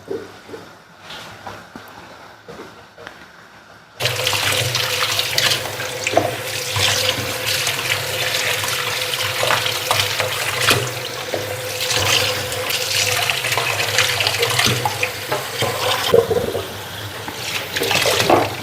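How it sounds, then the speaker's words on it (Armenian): A kitchen tap opens suddenly after a quiet start and water gushes loudly and steadily over fresh strawberries and mint leaves, splashing up close with no voices. "մի հատ բացեմ թող ջուրը գնա, մի քանի անգամ այսպես բացում փակում եմ"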